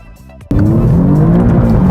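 2017 Alfa Romeo Giulia Quadrifoglio with a 505-horsepower 2.9-litre bi-turbo V6 bursts into a loud, rising engine roar after a brief quieter idle, the revs climbing steadily up close.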